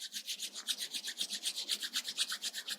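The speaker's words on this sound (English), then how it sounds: "Rub your palms." Two palms rubbed briskly together during a yoga pranayama session, giving a steady rhythmic swishing of about eight strokes per second, close and soft, with no talking.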